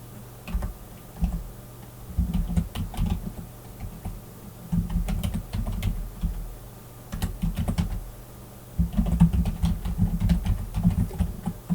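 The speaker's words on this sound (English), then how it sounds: "So I'm typing into the document I'm supposed to be editing" Someone types on a computer keyboard while editing a document, producing close, crisp clicks in uneven bursts separated by short pauses.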